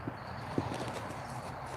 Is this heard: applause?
no